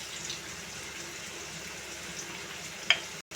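Ground spice paste with chilli and coriander powder fries in oil for an amodi fish curry, a steady close hiss and sizzle with a sharp clink near the end before a brief cutoff, no talking.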